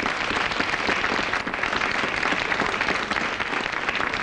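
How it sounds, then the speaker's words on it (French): A television studio audience applauds steadily for a guest during a 1992 French evening broadcast, dense continuous clapping that stays loud and even throughout. "On applaudit Julien."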